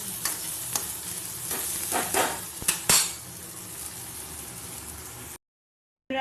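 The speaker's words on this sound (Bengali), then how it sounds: "একটু ভাজা ভাজা হচ্ছে লো ফ্লেমে দিয়েছি" Food frying gently on a low flame in a pan with shrimp-chop batter, a steady soft sizzle broken by several sharp scrapes and stirs of a utensil, ending in sudden silence.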